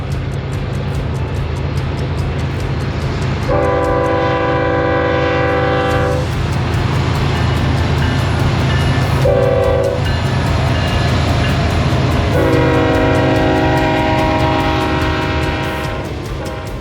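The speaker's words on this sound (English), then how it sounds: "And here comes this massive train." A freight train rumbles past loudly and continuously while its horn sounds in two long blasts, separated by a short one.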